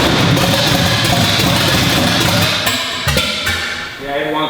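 HighBoy hot rod engine idling, a rough low rumble that holds steady and then dips and stutters near the end, close by with brief talk over it.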